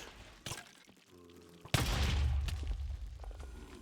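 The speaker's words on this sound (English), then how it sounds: "Explosions everywhere!" Explosions and blasts from the Avatar: Master of Elements video game, a sharp burst followed by a loud, sustained booming rumble with crackling bursts that fill most of the short span.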